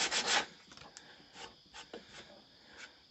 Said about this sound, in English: And this files down, sands down pretty easy.